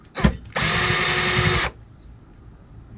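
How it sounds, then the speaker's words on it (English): A power drill driver removing screws whirs steadily for about a second after a brief rattling tap, then cuts off, leaving quiet room noise. "Now use this drill driver to take them out with"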